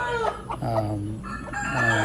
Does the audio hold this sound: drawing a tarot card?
no